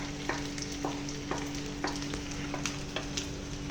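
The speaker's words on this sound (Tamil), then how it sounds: "இப்போ நம்ம வந்து இதை நல்லா ஒரு 5 மினிட்ஸ் ஃப்ரை பண்ணிடணும்" Chicken fries in a pan with a steady, close sizzle, punctuated by regular light scrapes and taps about twice a second as it is stirred, over a faint steady hum.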